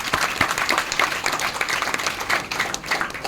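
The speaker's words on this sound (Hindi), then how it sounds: "ताली बजाइए साहब" An audience claps at a motivational business talk, close and lively applause with individual hand claps distinct in an uneven, busy rhythm that continues steadily throughout.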